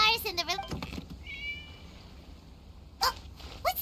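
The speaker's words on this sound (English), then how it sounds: "It was just a cat." A cat meows in Genshin Impact, a few wavering cries near the start and then more mews toward the end, with voices talking softly beneath.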